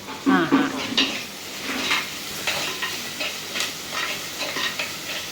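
Chicken for an uppu koli dish sizzling in a pan while being stirred, with steady frying hiss and repeated scraping and clinking strokes of a spoon against the pan, close and moderately loud.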